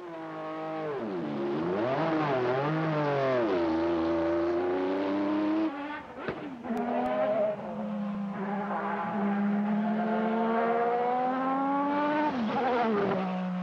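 A 1988 Camel Team Lotus 100T Formula One car drives at speed, its high engine note sweeping up and down through gear changes with a brief dip mid-run, loud and steady with no talking.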